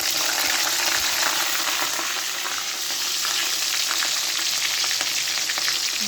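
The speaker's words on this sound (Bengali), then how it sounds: "পেঁয়াজটা একটু ভালোভাবে ভেজে নেব।" Chopped onions frying in a pan of oil seasoned with whole cumin, a continuous loud hiss and crackle that stays even throughout, close by and without talk.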